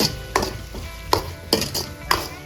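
A spoon stirs vegetables and red chilli sauce together in a hot pan for Singapore fried rice, giving several sharp scraping clacks at irregular intervals over a low sizzle.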